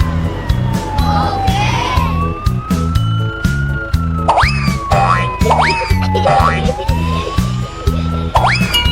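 Toy ambulance siren wailing in a children's rhyme, a rising and falling electronic tone looping loudly over a bouncy music track, with boing-like sound effects and a voice speaking.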